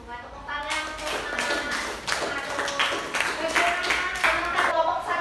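A small group in a classroom-style session claps by hand, a loose, uneven patter of individual claps heard close alongside voices.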